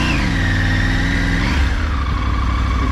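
A Triumph Tiger 850 motorcycle engine revs up close and loud, its pitch climbing before dropping back to a lower throb partway through.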